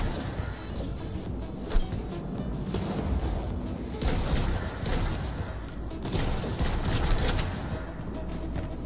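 Rapid bursts of Cyberpunk 2077 gunfire crackle continuously, loud and dense, with thuds and occasional impacts layered through the barrage.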